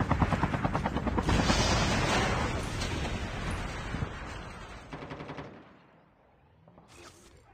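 Loud helicopter rotor chop from Call of Duty Blackout, thudding fast under bursts of gunfire and blasts, then thinning and fading out near the end.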